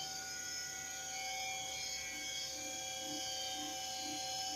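A 2007 Hurco VM1 CNC mill spindle runs a warm-up cycle at 5,000 RPM, giving a faint, steady whine with layered tones and no talking.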